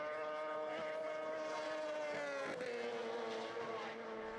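A racing sidecar with a production-based KTM parallel twin engine screams past at the Isle of Man Sidecar TT, a loud, sustained high-pitched engine note that dips in pitch as it goes by, with no talking.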